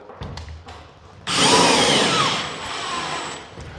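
A power drill drives a screw into drywall board during a repair, starting with a sudden loud whirring burst that eases into a steadier, softer spin, preceded by a few faint knocks and handling noises.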